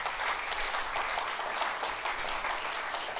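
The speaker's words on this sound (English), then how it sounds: "Let's give him a big round of applause." A large audience at a city's state-of-the-city event gives a steady, dense round of applause that holds at a constant level throughout, with no speech over it.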